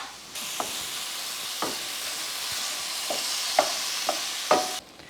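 Ground beef frying on a stovetop under a steady sizzle, with several soft scraping stirs of a utensil through the meat at irregular intervals.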